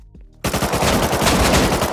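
Rapid automatic gunfire bursts out after a short quiet lead-in in the console survival game Rust, a loud, dense string of shots hammering on for over a second.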